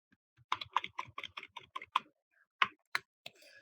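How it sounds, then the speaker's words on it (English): Computer keys, including the Tab key, are pressed in a quick run of about a dozen crisp, close clicks followed by a few spaced single taps, quiet with no talk. "If I'm pressing tab on the keyboard, it will change."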